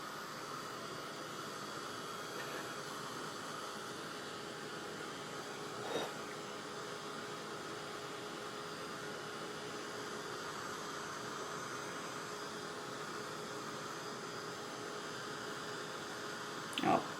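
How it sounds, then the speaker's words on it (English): Small craft heating dryer running steadily close by, a constant breathy whir with a faint hum and no speech. "This is my little heating dryer."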